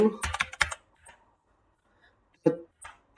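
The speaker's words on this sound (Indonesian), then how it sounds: "Di sini saya akan mengetik sort" Quick clusters of close keystrokes on a computer keyboard, a rapid burst of taps followed by a quiet gap and then a few more scattered presses.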